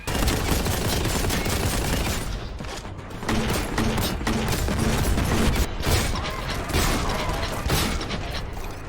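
Dense, continuous weapon fire from Warhammer 40K: Boltgun, a loud, rapid mechanical clatter of repeated shots with brief dips, nearly unbroken for the whole stretch, no voices.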